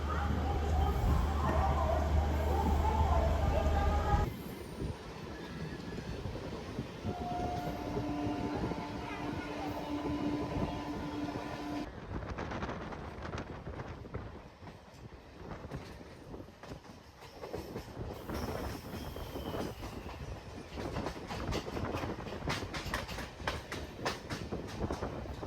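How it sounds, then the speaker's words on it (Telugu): MEMU passenger train between Cuttack and Puri pulling out of a station and running along the line, with a steady loud rumble and rattling wheels, a tonal whine partway through, and speech heard over the moving train. "దేలాంగ్ స్టేషన్లో ఆగి మనం అన్నది బయలుదేరిపోయాం దేలాంగ్ స్టేషన్ నుంచి"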